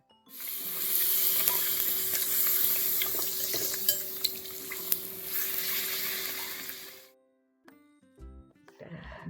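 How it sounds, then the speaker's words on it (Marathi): Puris deep-fry in hot oil, a close, steady frying hiss with a few soft knocks, then it cuts off and faint clatter follows. "आता अशाच पद्धतीनं आपण बाकीच्या पुऱ्या करून घेऊया"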